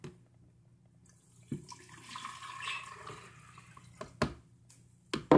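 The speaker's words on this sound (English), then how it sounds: "You're going to take this water and pour it in." Water pours steadily into an iced tea maker for a few seconds, close by, with a few sharp knocks and clunks toward the end.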